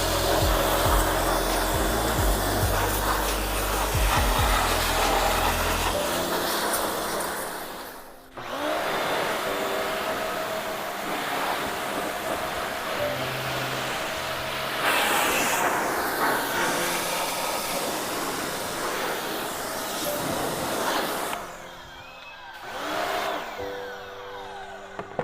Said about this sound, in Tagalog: So ito ang advantage pag may ganito kang washer, kay talagang malilinis yung motorsiklo mo.